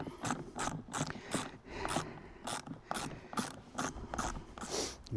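A ratchet clicks back and forth loosening 6mm bolts on a 2001 Aprilia RST 1000 Futura motorcycle, a close run of evenly spaced ratcheting strokes, about ten of them, with no talking.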